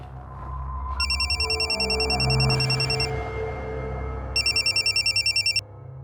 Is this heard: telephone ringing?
yes